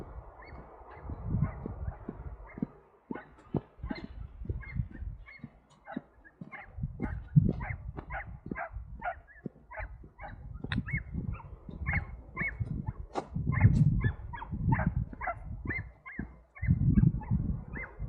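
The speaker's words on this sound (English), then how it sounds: "That's not a bird, I think that's an excited dog." An excited dog barks and yips in rapid, steady bursts somewhere out of sight along the Pembrokeshire Coast Path between Porthgain and Whitesands. The barking carries on at moderate distance for a long stretch, with whimpers mixed in and no talk.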